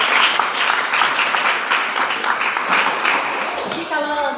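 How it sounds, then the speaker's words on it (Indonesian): A class of students claps loudly together in a classroom, a dense burst of applause that holds steady for a few seconds before a voice cuts in at the end. "Tepuk tangan untuk kita semua."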